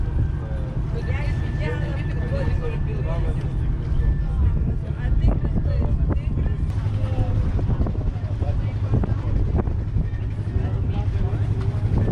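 A boat in Komodo National Park approaches and pulls alongside, its engine a continuous loud rumble with wind and water noise, while people talk over it throughout.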